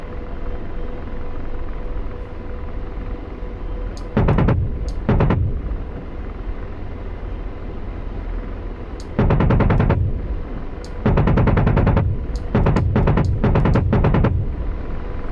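Several short bursts of automatic cannon fire from an Apache attack helicopter in the flight simulator DCS World, loud and close over a steady rotor and engine drone, with no talking.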